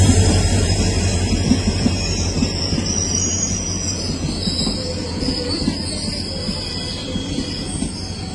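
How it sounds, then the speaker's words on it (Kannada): A train pulls into Arasalu railway station, the Malgudi Days heritage station, with steady rumbling wheels and squealing brakes lasting throughout, close by and loud, with no talk over it. "ಇಲ್ಲಿ ರೈಲ್ ಬಂತು."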